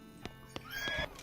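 Horse neighing in the comedic western video game West of Loathing, a short whinny rising near the end after a few soft hoof-like thumps, moderately quiet and with no talk.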